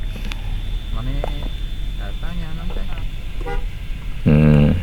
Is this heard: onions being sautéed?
no